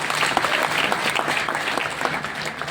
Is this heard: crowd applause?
yes